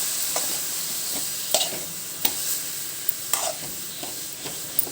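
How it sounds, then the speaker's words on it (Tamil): Beetroot fry stirred in a pan with the back of a ladle, a soft steady sizzle punctuated by irregular light scrapes and taps of the ladle, close by with no voices. "மாற்றி வச்சுட்டு அந்த பின் பகுதியை வச்சு கொஞ்சம் நேரம் நல்லா கிண்டி விடுங்க"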